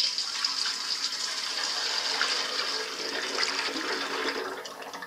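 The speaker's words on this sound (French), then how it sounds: "Et je rajoute de l'eau chaude." Hot water pouring into an old 1953 Terrot ETM motorcycle fuel tank, a steady gushing, splashing flow close by that runs continuously and eases slightly near the end.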